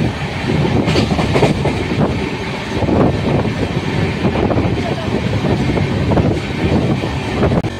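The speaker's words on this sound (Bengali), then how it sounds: "আমাদের ট্রেন বাঁকুড়া জংশন থেকে ছেড়ে দিয়েছে।" A long-distance passenger train runs on the rails between Bankura and Vellore: a loud, continuous rumble with a rhythmic clickety-clack of the wheels over the rail joints, heard from inside the carriage with wind noise on the microphone.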